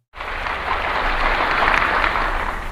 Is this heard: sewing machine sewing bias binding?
no